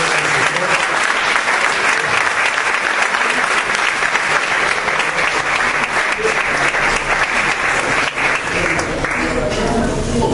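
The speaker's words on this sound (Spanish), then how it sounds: "de un aplauso a todos" Loud, continuous congregation applause inside a church, dense steady clapping with voices faintly mixed in throughout.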